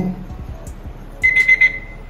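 A quick rhythmic run of four thin electronic beeps from a Hello Watch 3 Plus smartwatch's find-device function, fairly quiet and close, follows a moment of low background noise.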